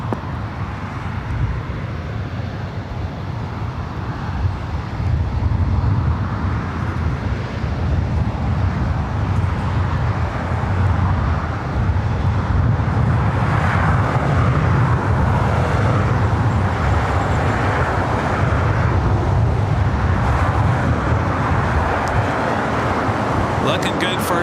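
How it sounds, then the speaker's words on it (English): A KLM airliner takes off from the north side at LAX, its broad jet roar rising and holding steady, loud and continuous throughout, with a voice talking over it. "Looking good for KLM as the north side takeoff."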